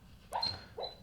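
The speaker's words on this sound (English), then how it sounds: "I think my dog is dreaming with something" A sleeping dog makes two short, soft whimpering yips while dreaming, close by in a quiet room.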